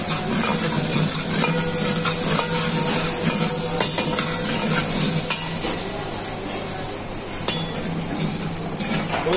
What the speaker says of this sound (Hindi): तो हमारा ये अनियन हल्का सा सौते हो जाएगा